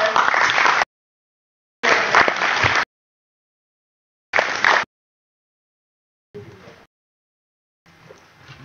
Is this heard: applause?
yes